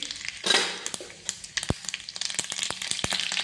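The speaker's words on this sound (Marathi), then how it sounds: "याच्यावर टाकणार आहे तेल याच्यामध्ये टाकून घेणार आहे आपण मोहरी" Mustard seeds sizzling in hot oil in a pan, a steady frying hiss broken by scattered sharp pops and crackles close by, with no talk.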